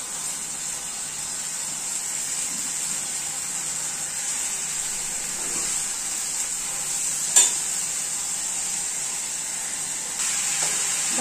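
Moth beans (matki) going into frying masala in a pan for a dry vegetable dish, a constant bright sizzling hiss with faint stirring scrapes and one sharp clack partway through, no talking.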